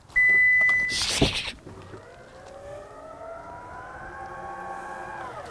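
A Toyota bZ4x electric car boot opening, starting with a loud sustained warning beep followed by a brief mechanical clunk, then a long rising electric whine as the tailgate lifts, nearby and alone.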